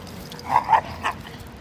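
Three short, fairly quiet yips from a dog at a moderate distance, two in quick succession and then one more.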